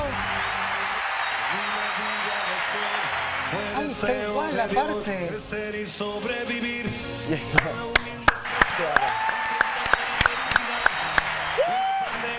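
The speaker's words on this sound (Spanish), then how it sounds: "Denle un fuerte aplauso." Audience applause after a magic trick on a television show, building into clapping and cheering with loud, sharp individual claps near the end, while people talk and laugh over it.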